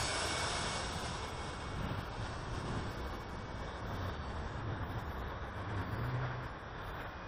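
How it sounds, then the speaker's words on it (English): An RC scale model airplane on a Turnigy Blue motor at half throttle drones steadily overhead, a constant, fairly loud buzzing hum that barely changes over several seconds, alone without talk. "the Turnigy Blue flies it around very well anyway, so that, you know, half throttle for scale flight"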